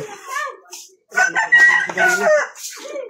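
A rooster crows among farm chickens, a clear nearby call with clucking fowl around it, and people talking close by.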